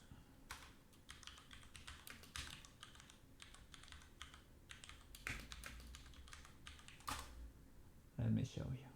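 Typing on a Philco Majestat 2 Ninja computer keyboard: a steady run of close, crisp key clicks with irregular rhythm, ending in a louder burst, with a voice talking faintly over it.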